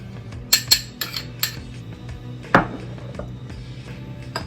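A spoon clinking against a bowl while coffee is mixed into a coconut mixture for a body scrub, with a series of sharp scraping taps, one louder knock midway and quieter stirring after, heard alone.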